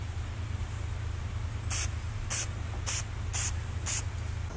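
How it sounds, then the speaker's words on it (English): Five short bursts of a spray can applying wrinkle black paint to a motorcycle GoPro microphone housing, each hiss lasting about a quarter second at a steady rhythm over a low background hum. "Spray painted the housing wrinkle black."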